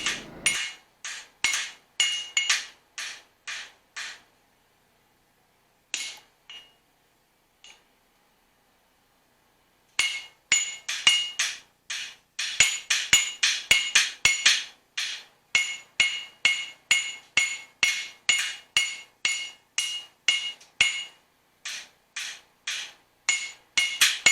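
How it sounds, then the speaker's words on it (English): A hammer planishes forged steel on an anvil with a long series of sharp, ringing metallic strikes at a steady rhythm. A pause comes in the middle, then faster, denser blows resume, close and loud. "I follow this up with a little bit more planishing, some straightening"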